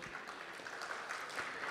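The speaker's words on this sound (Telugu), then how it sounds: "వాళ్ళిద్దరికీ ఒక రౌండ్ ఆఫ్ అప్లాజ్" Audience applause at a film pre-release event, a dense, steady wash of clapping heard from a distance, fairly faint and continuous throughout.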